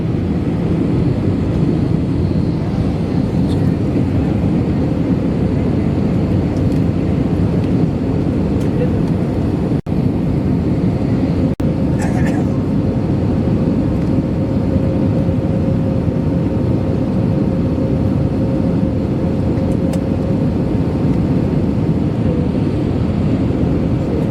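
Cabin of an IndiGo airliner on approach into Kolkata with the landing gear down, a loud steady low engine and airflow roar that fills the whole clip, with a couple of faint clicks.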